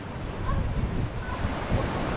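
Surf rolling in on Costa Rica's Caribbean coast, a loud, continuous broadband roar of breaking waves with some wind buffeting the microphone.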